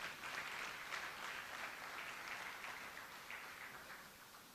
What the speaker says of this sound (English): let's give a round of applause for all the participants